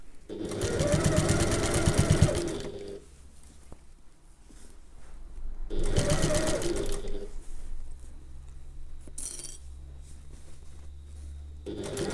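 Sewing machine stitching around the top seam of a handbag, running in two bursts of steady rapid stitching with quiet pauses in between, close and fairly loud.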